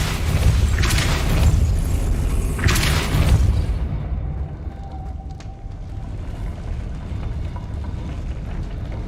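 A Depulso spell cast in Hogwarts Legacy lands as two heavy booming blasts in quick succession, followed by a low rumbling tail of game ambience.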